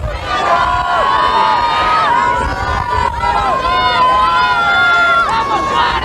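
A crowd at a 1983 polo final in Palermo cheers and shouts loudly in a sustained roar, with high whistling and rising calls over dense crowd noise.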